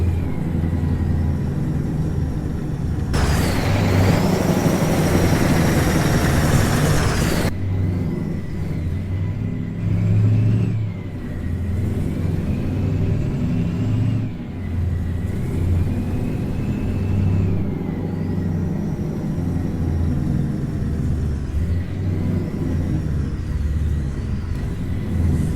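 A modded Mack truck engine in American Truck Simulator runs with a steady loud diesel rumble and whine, surging into a harsher roar for a few seconds, then settling back to a droning, shifting engine note, with no talking.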